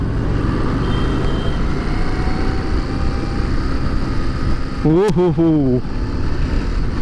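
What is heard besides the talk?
Harley Davidson street rod motorcycle riding in traffic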